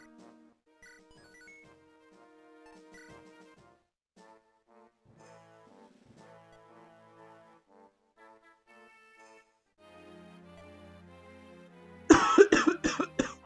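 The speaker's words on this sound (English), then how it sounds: "Genuinely had to cough." A single loud, sharp cough bursts out near the end, preceded by quiet indoor rustling and soft background sounds.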